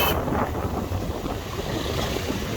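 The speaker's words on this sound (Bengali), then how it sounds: "তো বাতাসের শব্দ কিন্তু কানে এসে লাগছে" Strong gusty wind roars inside a motorcycle helmet as the bike rides along a road before a storm. A loud, continuous rumbling buffet fills the sound with no voices.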